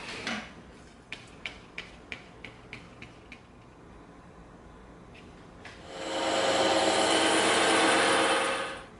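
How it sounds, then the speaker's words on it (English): A bandsaw cuts through glued-together EVA foam, rising at about six seconds into a loud, steady broadband whir that holds for roughly three seconds, preceded by a run of evenly spaced clicks. "we're going to attach this together and cut these out on the bandsaw"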